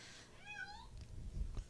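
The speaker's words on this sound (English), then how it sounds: "so you may hear a little meowing" A cat gives a single soft, rising-and-falling meow in a quiet room, followed by faint low thumps of movement.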